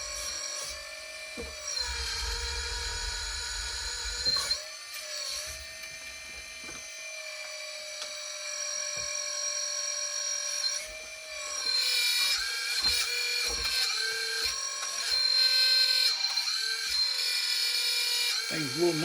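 A 1/14 scale RC4wd bulldozer's hydraulic system runs after a leak repair and reservoir top-off, giving a continuous whining, grinding hum close up. Its pitch shifts slightly, with clicks and bursts of strain throughout.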